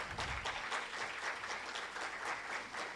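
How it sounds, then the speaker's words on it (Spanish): Steady applause from a lecture audience welcoming a speaker, a dense wash of many hands clapping continuously and fairly loud for a few seconds, with no talking. "Un fuerte aplauso para nuestro invitado."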